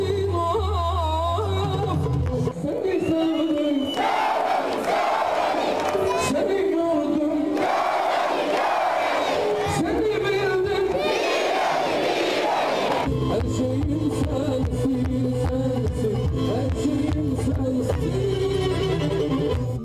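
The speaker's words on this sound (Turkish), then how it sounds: "Bitlisliler bütün şarkılara eşlik ediyorlardı." A large concert crowd in Bitlis sings along in 1999, a loud massed chorus of voices with music, swelling and fading over a continuous roar of the audience.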